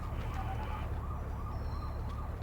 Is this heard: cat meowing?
no